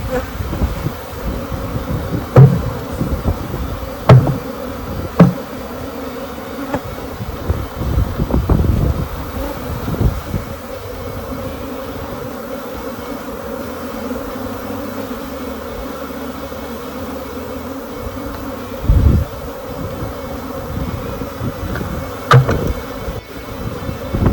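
Live removal of a honey bee swarm outdoors in Arizona, dense buzzing droning continuously while individual bees zip close past the microphone in sharp passes, with light wind noise and no talking.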